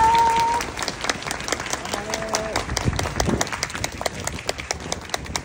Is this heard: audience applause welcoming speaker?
yes